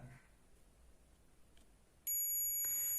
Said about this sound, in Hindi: देखिए इस कैपेसिटर पर बीप की आवाज देता है।